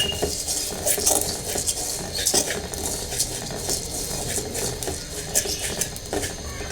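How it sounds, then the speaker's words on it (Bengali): Rice dry-roasting in a pan for a jaggery rice sweet, stirred continuously with a utensil that scrapes and clatters against the metal in a steady, close, busy rhythm with no talking. "চালগুলো এখন আমি ভেজে নিব।"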